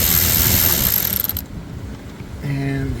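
Ratchet turning T20 bolts on a Mercedes GLE W167 dashboard, a fast dense clicking run that stops abruptly, then a brief quieter gap and a different mechanical whir, close and loud.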